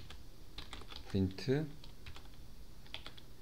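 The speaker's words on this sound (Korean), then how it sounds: "왼쪽 키보드의 왼쪽 중간 쪽에 보면 tab라고 써 있는 그 탭키를 눌러서" Quick keystrokes on a computer keyboard, including a press of the tab key while writing Python in IDLE, a close run of light clicks with someone speaking briefly over them.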